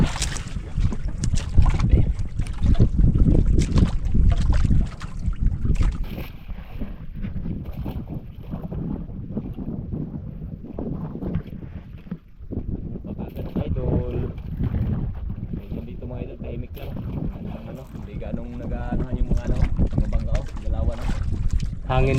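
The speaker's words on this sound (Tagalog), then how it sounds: "Hangin lang siya." Gusty wind during the northeast monsoon season behind an island rushes continuously into the microphone, loud and close, under ongoing talk.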